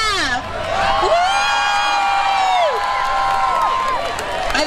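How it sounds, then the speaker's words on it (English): A crowd of students at a homecoming school assembly cheers for the staff, with loud sustained whoops and high shouts filling the hall for several seconds, then a fresh burst of cheering near the end. "Can we get some cheers for the staff?"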